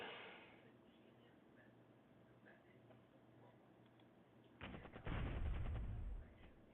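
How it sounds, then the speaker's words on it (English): Cannon fire from the war strategy game Burden of Command: a low, rumbling boom with crackle arrives after several seconds of quiet background, moderately loud and alone. "Okay, now I heard that cannon go off."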